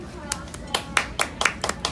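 Sharp, separate handclaps at an awards ceremony come in a loose, uneven rhythm, about eight of them in under two seconds, fairly close and moderately loud over a quiet room.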